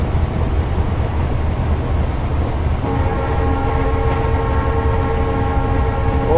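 A Rajdhani express train runs past in the Indian Train Simulator game, with a steady loud rumble of wheels and carriages throughout and sustained horn tones joining partway through.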